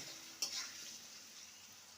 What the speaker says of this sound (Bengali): আর হলুদ গুঁড়ো আলুটাকে ভালো করে লাল করে ভেজে নেব